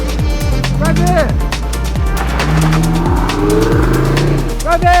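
Lamborghini SVJ and other supercars at the 2023 Gumball 3000 rev and accelerate loudly nearby with repeated rising and falling engine pitch sweeps, along with tyre squeal, while people shout and talk over the engines.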